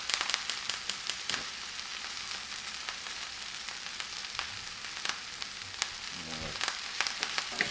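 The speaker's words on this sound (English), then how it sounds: "It doesn't take long to saute kale." Kale sautes in a hot pan with a loud, crackling sizzle and rapid popping, punctuated by a few clacks and scrapes of a utensil moving the leaves.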